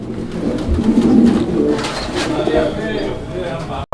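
African Mundian pigeons coo in low, rounded, throaty bursts, repeated close by with a steady soft murmur of more cooing beneath.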